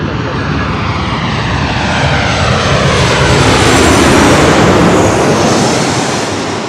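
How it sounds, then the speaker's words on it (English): A Delta Boeing 737-900ER airliner roars past at LAX, a loud, steady jet rumble with a sweeping whine that swells and fades slightly as it moves by. "It's the Delta 737-900 ER."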